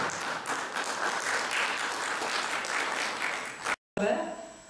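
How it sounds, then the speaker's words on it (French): Audience applause at a cultural association gathering, a steady round of clapping from the room that cuts off abruptly near the end, followed by a short burst of other noise. "Applaudissez très fort pour la petite"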